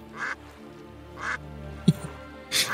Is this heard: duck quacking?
yes